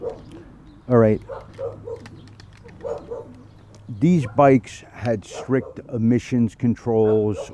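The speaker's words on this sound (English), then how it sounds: "I'm sorry about the dogs." Dogs yip and whine intermittently in the background while someone talks close by, their brief cries partly masked by his steady speech.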